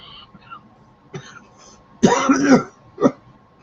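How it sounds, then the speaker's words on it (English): A single loud, raspy cough bursts out after a few quiet moments, followed by a shorter throat-clearing rasp about a second later. "Sorry about the cough"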